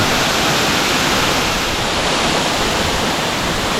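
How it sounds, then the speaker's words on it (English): Steady, dense roar of a waterfall on Fiji, loud and close, with unbroken broadband rushing water and no voices. "There's the 2nd waterfall."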